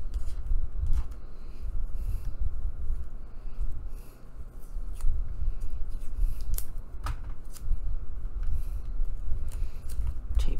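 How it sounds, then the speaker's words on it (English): Tape pulled off a roll and pressed down onto a mixed-media paper page, with intermittent rips, crinkles and handling rustles, fairly close and quiet, plus occasional soft voice. "Help tape that down."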